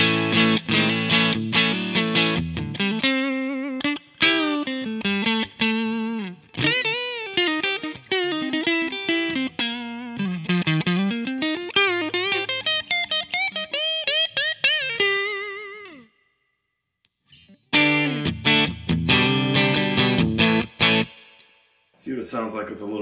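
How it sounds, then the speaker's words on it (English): Warmoth Telecaster electric guitar played through the rhythm pickup with a boost engaged, a loud, driven tone with strummed chords and melodic bends, pausing briefly near the end before resuming. "Rhythm pickup with the boost engaged."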